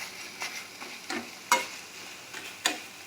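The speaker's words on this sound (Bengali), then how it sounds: "এইভাবে পাতাটাকে থোড়ের সঙ্গে ভালো করে মিশিয়ে দিতে হবে।" Banana stem being stirred with ash gourd leaves in a pan for a traditional Bengali vegetarian dish: a low background sizzle broken by a few scattered spatula scrapes and taps, close and uneven, with no voices.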